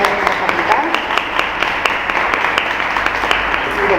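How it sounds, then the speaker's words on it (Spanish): Audience applause welcoming Claudia Rodríguez, a guest speaker at a talk on ISBN, digitalization and metadata, as a steady wash of many hands clapping at close range for the full stretch. "les pediría un aplauso para agradecer que haya venido Claudia"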